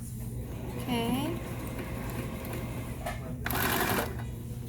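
A sewing machine runs in a steady mechanical whir while back stitching a stretchy fabric collar, with a brief pause and a louder burst of stitching near the end, and a person talks faintly underneath.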